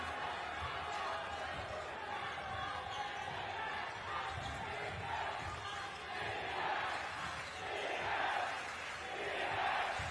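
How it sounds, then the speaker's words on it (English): An indoor crowd at a professional basketball game, NS Matrix Deers vs Taoyuan Pauian Pilots, roars and shouts for the home team over the thump of a bouncing basketball, the noise rising in swells, with a commentator talking over it. "the home crowd making their voices heard"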